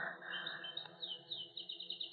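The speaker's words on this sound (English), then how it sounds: "Those birds, I don't like them." Caged birds chirp in quick, repeated high tweets that grow busier toward the end, clear and close in a quiet room.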